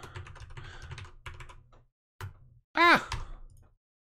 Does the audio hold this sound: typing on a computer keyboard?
yes